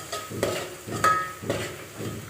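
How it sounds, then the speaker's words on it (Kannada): Onions with turmeric powder fry in a pan for spicy garlic puffed-rice snack, stirred in four or five regular scraping strokes over a soft steady sizzle, close and moderately loud with no talking. "ಹಾಕಿ ಚೆನ್ನಾಗಿ ಫ್ರೈ ಮಾಡ್ಕೊಳ್ಳೋಣ."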